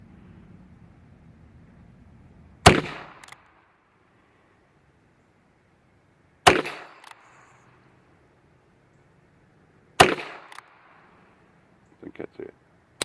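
Three sharp, loud gunshots from an RG66 single action revolver, spaced several seconds apart, each followed by a brief echo, with faint rustling and small clicks after the last shot.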